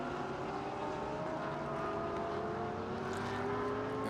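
Race cars, a green and white number 87 Porsche and a Nismo Nissan, screaming past at the Sepang circuit in a GT race, a steady distant engine roar with rising and falling tones and no talking.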